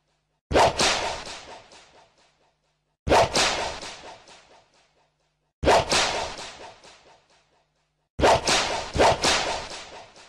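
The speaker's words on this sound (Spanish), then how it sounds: "con gran acrobacia pudo eludir los latigazos" Whip lashes in a Spanish-language jungle audio drama: four sharp, loud cracks about two and a half seconds apart, each a bright snap trailing into a short rattling decay, alone with no talking.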